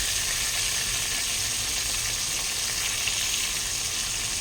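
Ivy gourd sizzles steadily in hot oil in a pan, a close, continuous frying hiss with no break or talk.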